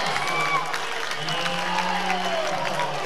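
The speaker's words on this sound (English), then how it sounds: "And you hear the crowd" Crowd at a college basketball game between Bevill State and Snead State cheering and applauding loudly and steadily, with a loud, continuous roar of voices and clapping.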